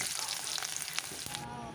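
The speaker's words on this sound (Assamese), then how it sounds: "তেলখিনি গৰম হৈছে গতিকে ইয়াত মই দি দিলো পিয়াজখিনি অকণমান সময়ৰ কাৰণে ভাজি লম" Onions and bay leaves frying in hot oil, a soft, fairly quiet sizzle with a few small crackles and stirring taps, brief and close.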